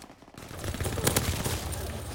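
Dense, continuous gunfire from the World War II shooter Call of Duty WW2, a sustained overlapping volley of shots that swells after a quiet start and holds loud to the end, with no speech over it.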